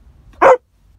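A small dog lets out one short, sharp bark at close range amid otherwise quiet indoor surroundings.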